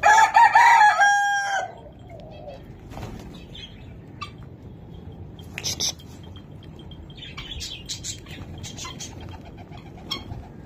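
Guinea fowl fighting in a small backyard zoo give a loud burst of harsh calls at the start, followed by scattered squawks, scuffling and flapping at moderate distance.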